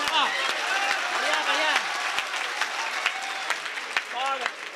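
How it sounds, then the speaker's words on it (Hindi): Loud applause from the audience at a Hindi poetry recital (kavi sammelan), a sustained dense clatter of many hands with a few sharp louder claps and whistling voices mixed in. "जोरदार तालियां बजा दीजिए।"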